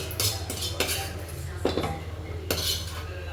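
Metal spoon scraping and clinking against a pan while egg rice is stirred together, several distinct clattering strokes spaced about a second apart over a low steady background hum.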